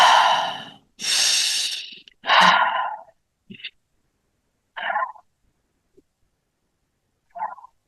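Deep, airy inhales and exhales come in a slow rhythm during a gentle morning breathing practice. Three long, close breaths are followed by a few short, faint puffs separated by silence.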